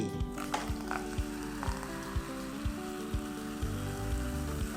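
Coca-Cola poured out, fizzing and crackling steadily, with a dense carbonated hiss and small popping bursts throughout, close by and fairly loud.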